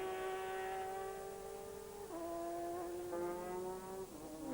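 Toyota race cars run nose to tail in a 2002 Japanese GT race, sustained high engine whines gliding down and up as they shift gears, steady and somewhat distant.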